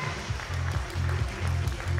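Audience applause at a men's bodybuilding competition, under-70 kg open class, in Taiwan: steady crowd clapping running underneath an announcer's amplified voice and a low rhythmic musical pulse, moderately loud throughout.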